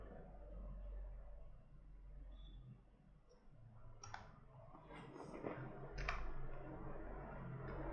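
Fingers type on a computer keyboard at a desk, sounding as faint, sparse clicks and a few short bursts of keystrokes over a low background hum, quiet and close.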